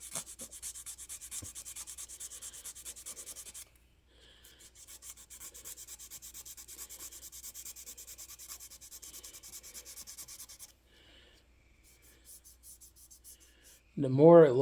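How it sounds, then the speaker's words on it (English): Sandpaper rubbed back and forth over a car's painted body panel during a restoration, a steady close scratchy rasp in long strokes with a short pause midway, then a louder knock at the end. "Just keep on sanding though."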